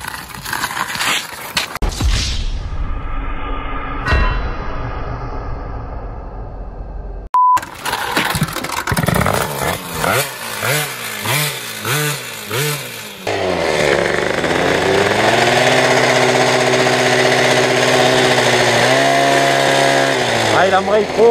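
A Peugeot 103 moped with a slipping clutch that engages too hard revs its small engine loudly, rising and falling in pitch, cuts out briefly, then settles into a steady, close, high buzzing drone.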